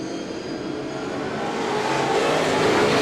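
Race car engines roar and build as they accelerate, a dense rising drone growing louder over a few seconds.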